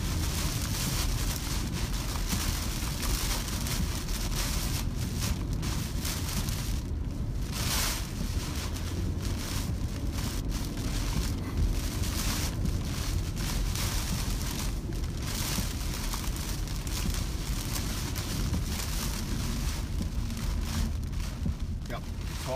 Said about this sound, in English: Winds are straight out of the east, gusting to over 100.